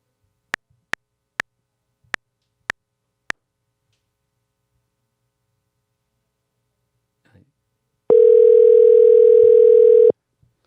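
Telephone call to a podcast guest: six sharp dialing clicks in a steady sequence, a brief pause, then a loud, steady two-second dial tone.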